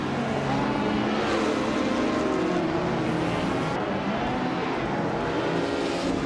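A vintage 1963 Jaguar E-Type Lightweight race car engine in a racing video game at Deep Forest Raceway Reverse, with a loud, steady, unbroken drone from the pack of cars throughout.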